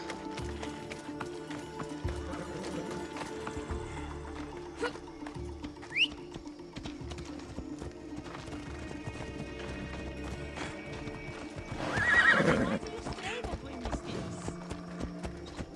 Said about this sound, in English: I just wanted my horse